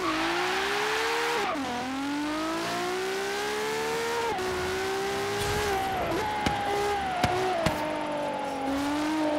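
A LaFerrari driven in Forza Horizon 3 roars through sustained high revs, its engine pitch rising and dipping with repeated gear shifts and brief tire noise, loud and continuous with no talk.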